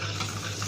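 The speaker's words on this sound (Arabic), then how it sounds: "وهنقلبهم شوية" Chili powder stirred into hot oil in a pan, a steady close sizzle with soft scraping from the spoon, continuous and fairly quiet.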